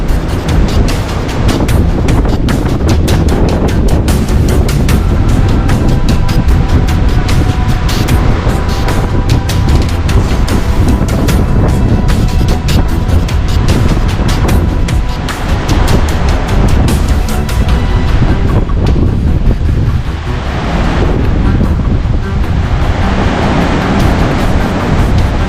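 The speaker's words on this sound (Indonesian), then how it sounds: "Anginnya kencang banget men." Strong wind at the seaside on the southern coast roars continuously into the microphone as a loud, broad, unbroken rush that buries any surf for the whole stretch, with no talking.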